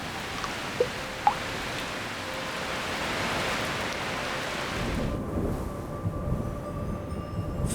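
Heavy rain pours over the Amazon rainforest in a dense continuous hiss, with a deep rolling thunder rumble swelling toward the end and a couple of sharp drip-like taps early on.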